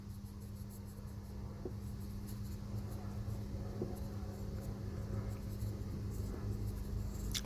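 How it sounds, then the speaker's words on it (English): Faint, intermittent scratching of a pencil marking metal on a half crown coin ring, a few short strokes over a steady low hum. "Right, trusty pencil, and I think if we just mark here"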